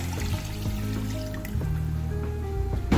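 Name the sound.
water poured into pot of fried goat head with spices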